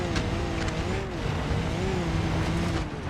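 Virtual car drifting around a Utah canyon road in BeamNG, the engine droning steadily while a wavering tire squeal rises and falls throughout, loud and continuous with no talking.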